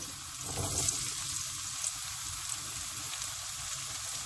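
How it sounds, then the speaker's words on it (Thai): Carrots and garlic stir-frying in a pan, a steady soft sizzle with a brief louder burst near the start, continuing low and even throughout without any talk. "แล้วเราก็ผัด แล้วเราก็ใส่กระเทียม"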